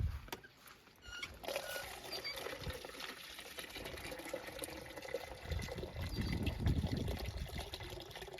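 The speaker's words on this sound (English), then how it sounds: "fill up the watering can with" Tap water pours into a watering can in a garden, a steady splashing trickle that builds in fullness over several seconds, with no talk.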